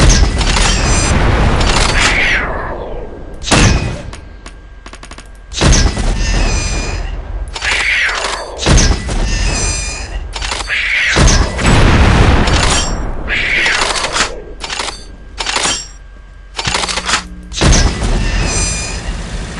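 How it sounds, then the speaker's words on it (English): Incendiary grenades bounce and explode in the video game Unreal 2, a series of loud, booming blasts with crackling fire bursts spread across the stretch, separated by short quieter gaps. "so you can bounce the grenades around some before they explode."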